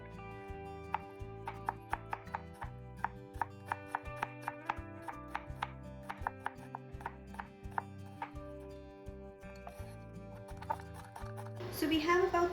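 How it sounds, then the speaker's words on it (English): A knife slices an onion on a cutting board with a steady run of crisp, evenly spaced chops. Background music plays, and a louder clatter closes it out. "we have this onion and we need to slice that"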